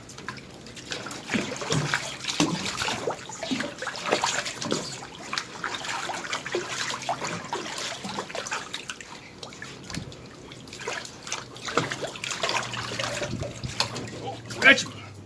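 Water trickles and pours steadily during a bath for a sick cat with infected eyes and fleas, with continuous splashing and dripping close by and occasional louder splashes.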